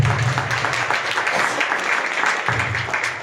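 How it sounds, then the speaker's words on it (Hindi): A seminar audience at a Modicare event in Bhawani Mandi claps together, a dense continuous wash of hand claps filling the hall, with a low rumble underneath. "हर तरह का ताली बजा सकते हैं।"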